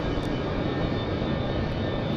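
Jet engines of an Avro 730 Vigilant in the X-Plane flight simulator spool down, a steady broadband roar with a faint high whine holding at moderate level throughout.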